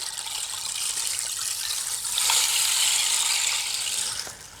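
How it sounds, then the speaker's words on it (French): A rain disc sound-healing instrument gives a continuous soft hiss of pattering, rain-like trickling that swells slightly and then fades, steady and close with no other sounds. "un disque de pluie aussi appelé ruisseau"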